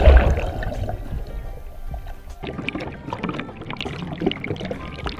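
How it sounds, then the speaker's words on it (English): Plastic bowl and bottle forced under water, used as a League of Legends Pyke ability sound: a loud gulping plunge at the start, then a busy run of glugging, bubbling splashes and sloshes close by. "Or Pyke's abilities. Those were recorded by drowning a plastic bowl and bottle against its will."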